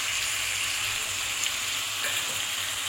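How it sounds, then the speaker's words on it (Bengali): Ginger paste frying with onion and garlic in a pan for a Bengali chicken curry, a steady close sizzle with no break and no voices. "দিয়ে দেবো আদা বাটা"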